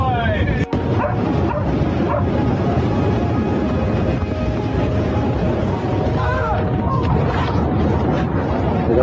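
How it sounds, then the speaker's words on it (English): A dog yips, whimpers and barks excitedly outdoors, with repeated short cries over a constant noisy background and people talking at times. "There goes the dog."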